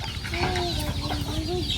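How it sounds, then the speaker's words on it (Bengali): Free-roaming village chickens cluck and murmur in short, overlapping calls close by, over a busy outdoor background. "এই যে এটি সব বাইরের মুরগি,"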